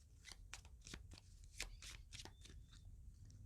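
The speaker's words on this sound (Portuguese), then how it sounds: "Vamos tirar aqui o baralhinho da Dona Sete" A deck of fortune-telling cards being shuffled up close, a quick series of crisp papery riffles and slaps with no talking over it.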